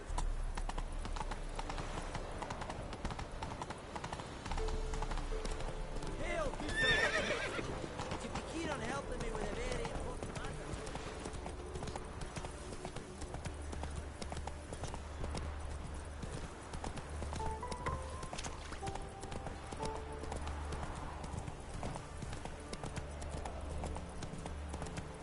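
A horse gallops in The Witcher 3 on PS4, steady rapid hoofbeats continuing throughout with game ambience, and a voice speaking briefly over it.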